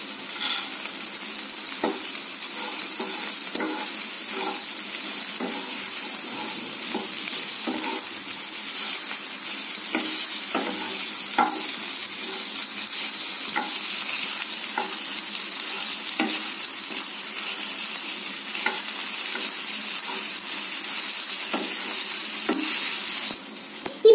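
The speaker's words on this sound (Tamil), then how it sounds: "கொஞ்சம் நல்லா வதங்கிட்டு இருக்கோம்" Drumstick leaves soup ingredients sautéing in a pan, a steady close sizzle running throughout with repeated spoon scrapes and stirring knocks at an irregular rhythm, no voices.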